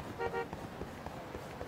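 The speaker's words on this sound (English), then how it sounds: "Stop all the honking!" Two short car horn honks sound in quick succession near the start, set in the city streets of the video game Judgment, followed by low game ambience and scattered traffic noise.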